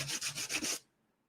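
A lightsaber part is sanded by hand in four quick, even back-and-forth strokes, a close raspy rubbing that stops sharply into near silence.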